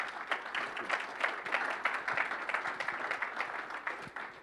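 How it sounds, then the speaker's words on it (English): Audience applause at a virtual conversation event with golf legends, dense and steady clapping lasting several seconds. "Give them another huge round of applause"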